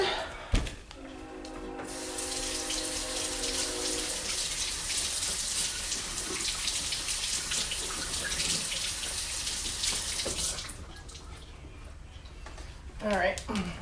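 Kitchen tap running over food being washed while cooking for Thanksgiving, a steady loud hiss of water with a brief clatter and splashing near the end as the flow stops.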